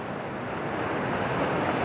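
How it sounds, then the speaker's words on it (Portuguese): Ocean waves break on the shore in a steady wash of surf mixed with wind rumble on the microphone, continuous and fairly loud, with no one talking. "com essas ondas quebrando aqui na arrebentação"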